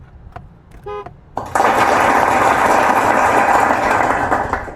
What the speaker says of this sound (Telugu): చప్పట్లు కొట్టినట్టు కూడా సౌండ్ వస్తుంది